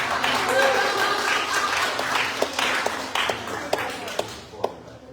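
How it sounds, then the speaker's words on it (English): Audience clapping at a town council meeting, starting as a steady dense round of applause that thins out into a few scattered, separate claps and then stops. A voice is heard at the same time. "You can clap."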